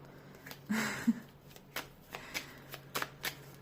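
Playing cards are riffled and snapped in several quick, close bursts, a papery flutter followed by crisp taps.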